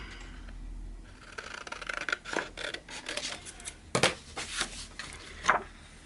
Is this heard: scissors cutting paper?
yes